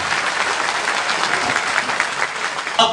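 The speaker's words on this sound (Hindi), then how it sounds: "नहीं तो जरा बजाइए तालियां एक बार" An audience at a poetry recital in a hall in Agra gives a dense, continuous round of applause, steady and fairly loud throughout, ending with a brief louder burst.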